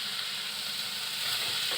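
Boiled chickpeas fry with spices in a hot pan, giving a continuous dense sizzle that holds steady and swells slightly near the end, with no voices.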